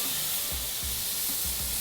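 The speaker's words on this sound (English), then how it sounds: "Now that sizzle tells me that the grill grates are exactly where we want them." A T-bone steak sizzles on hot grill grates over direct heat, a steady broadband hiss with a few soft low thumps underneath, close and continuous with no talking.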